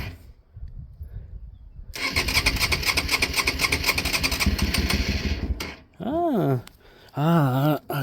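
A Honda Varadero motorcycle engine cranks at first, then catches and runs at a steady loud rumble for several seconds before cutting out, followed by a few rising and falling revs; someone speaks quietly in French at the start.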